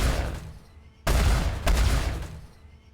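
Wing-mounted guns on a Freelancer ship in Star Citizen firing in two loud sustained bursts, a sharp onset followed by a roaring rush of shots, close and dominant.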